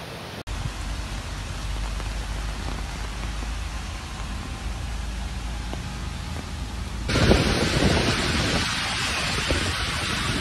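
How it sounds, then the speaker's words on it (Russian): Heavy tropical downpour in Sochi roars as a dense, steady wash of rain, growing louder and harsher partway through, with no voices heard. "А дождь все не утихает и не утихает."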